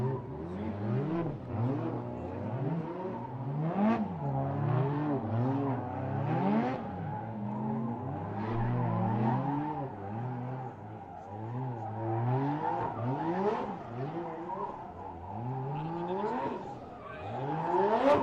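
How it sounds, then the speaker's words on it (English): Formula Drift cars at Fuji, Japan, warm their tires beside the hot pits, engines revving and wailing continuously with overlapping rising and falling pitches and squealing tires throughout, loud and sustained. "you can see right there, they're getting their tires warmed up, ready to go"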